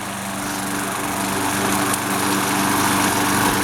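A Craftsman 6.75hp self-propelled lawn mower runs steadily up close while mowing a suburban lawn, its engine a constant loud drone throughout with no talking.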